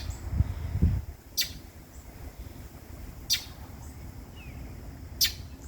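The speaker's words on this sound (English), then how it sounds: "I don't know what kind of bird that is" Outdoors in a garden, a bird gives three short, sharp high chirps spaced a couple of seconds apart, moderately distant over a soft background hiss, after a brief low rumble at the start.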